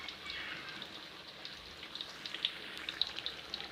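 Vegetable fritters (bakwan) fry in hot oil in a wok, giving a steady soft sizzle with scattered small pops and crackles, close but fairly quiet, with no talking.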